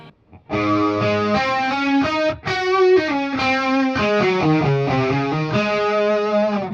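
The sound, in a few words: guitar through harmonizing delay pedal preset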